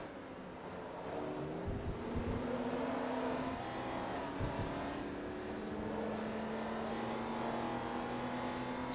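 A race car engine in Forza Motorsport 2 holds a steady droning note, with a couple of shifts in pitch, under a continuous game background and without speech.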